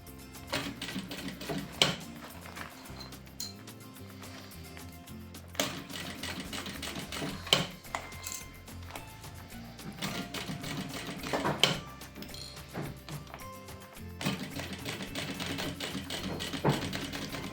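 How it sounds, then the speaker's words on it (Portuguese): A sewing machine stitches all the way around piping on a preschool backpack, running in bursts of rapid mechanical chatter separated by brief pauses, with short backstitches at the start and end. "agora vamos costurar sobre o vivo e fazer uma costura a toda a volta, fazendo retrocesso no início e no fim"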